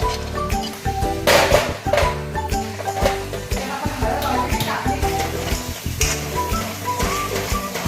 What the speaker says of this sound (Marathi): हा मसाला चांगला तेल उतरेपर्यंत भाजून घ्यायचा।